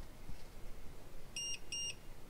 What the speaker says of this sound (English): So now that we got the two beeps